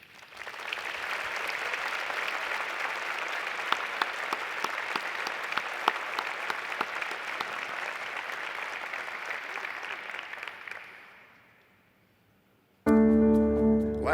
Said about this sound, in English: please, let's give a warm welcome and round of applause